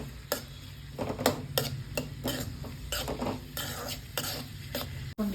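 Onions fry in about three spoons of hot oil for egg paddu, with a soft sizzle beneath repeated close scraping and clinking of a spoon stirring in the pan.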